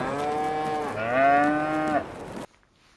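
Cows moo in Farming Simulator 22 on a Polish farm, with two long, loud, close bellows in a row, the second swelling louder before it cuts off sharply into near silence.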